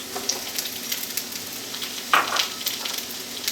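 Vegetables sautéing in a pan for a tofu noodle bowl, giving a continuous crackling sizzle with one louder scrape of a utensil partway through, near and moderate.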